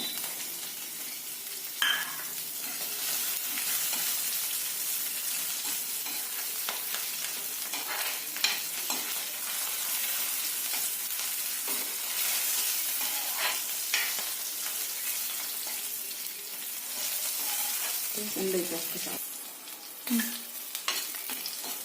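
Garlic cloves frying in hot oil, a continuous moderate sizzle with scattered clicks and scrapes of stirring over a long stretch, no voices.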